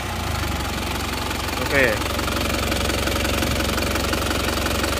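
A motorcycle engine idles steadily at close range with a rough, knocking mechanical clatter, continuous and even throughout, while someone speaks briefly over it.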